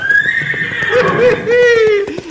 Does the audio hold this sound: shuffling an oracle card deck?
no